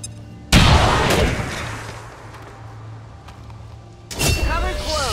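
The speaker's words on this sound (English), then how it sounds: "No to rzucimy granat." A frag grenade in XCOM 2 goes off as a sudden loud blast that fades into a rumbling decay, followed a few seconds later by another sharp burst, with voices heard around it.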